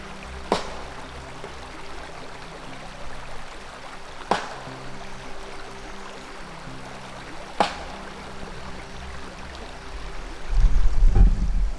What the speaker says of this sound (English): You can't really hear anything over this water.